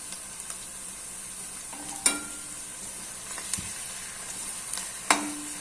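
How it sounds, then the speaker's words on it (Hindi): Soft, steady sizzle of ginger garlic paste frying with onions in a pan, with a few sharp clicks of a utensil scraping and stirring, close by and without voices. "ये लहसुन अदरक का पेस्ट जो है ये भी अच्छे तरीके से फ्राई हो जाएगा।"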